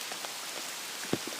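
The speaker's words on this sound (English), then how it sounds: "I just gotta deal with some rain walking through a field." Rain falling steadily across an open field during a countryside farm walk, a soft continuous hiss with occasional nearer drops and a footstep-like thump, with no voices.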